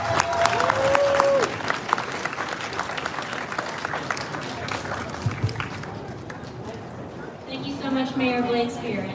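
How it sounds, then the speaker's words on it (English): At a SANDAG and Caltrans North Coast Corridor ribbon cutting, an outdoor audience gives California Transportation Commissioner Larissa Falcon a round of applause that fades over several seconds, and voices talk nearby as the clapping tails off. "So let's give her a big round of applause."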